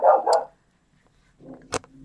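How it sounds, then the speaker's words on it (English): A dog barking indoors at home, two quick loud barks, a pause, then a softer bark followed by one sharp yip, close by with no talk. "Oh, sorry, bark alert."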